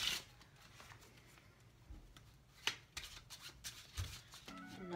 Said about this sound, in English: Get the deck a shuffle.